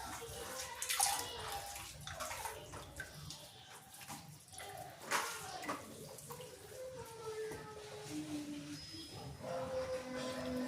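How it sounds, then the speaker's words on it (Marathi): Water poured into buttermilk in a kitchen vessel to wash out ghee, a running, splashing pour with light trickles and drips, fairly quiet and close. "म्हणून थोडंसं पुन्हा याच्यात ताकातच पाणी ओतून घ्यायचे."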